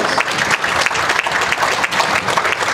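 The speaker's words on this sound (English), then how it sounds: "Let's give these junior exhibitors a nice round of applause." Close, lively applause from spectators at a Holstein heifer dairy cattle show, honoring junior exhibitors, with individual claps audible in a steady, energetic round.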